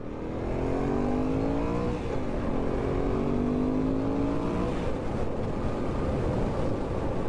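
A cold TRX 850 motorcycle engine runs with a rattle, a steady close mechanical drone whose pitch climbs through a rev before settling into a constant, rough idle, with no talk.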